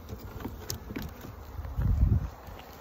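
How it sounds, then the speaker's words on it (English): Honeybees buzz faintly around frames pulled from a winter hive, a low soft hum with light rustling and a slightly louder swell near the end, close by and without talk. "There's some bees gathering."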